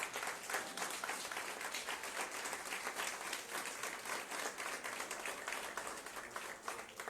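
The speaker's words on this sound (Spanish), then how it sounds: "Dale ese aplauso al Rey." A church congregation applauds through a Christian sermon, steady and fairly distant clapping that carries on without a break and no voice over it.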